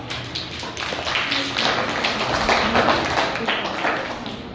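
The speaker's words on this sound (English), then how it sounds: "Let's appreciate our young speakers with a big round of applause" Audience applause for young speakers at an Independence Day celebration, a steady wash of clapping lasting several seconds at moderate loudness, fairly close.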